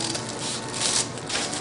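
Scissors snip through layered tissue paper in a short run of close, crisp, crinkly cuts while a circle is trimmed out.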